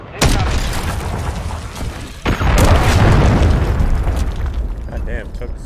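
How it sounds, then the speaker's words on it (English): Cruise missile strikes in a video game land as two loud, close booms a couple of seconds apart, each followed by a long rolling rumble of debris and aftershock. "Hostile cruise missile incoming."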